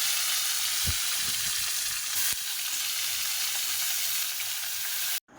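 Vegetables hit a very hot wok with a continuous loud sizzle and hiss, broken by a sharp utensil clack midway and stopping abruptly near the end.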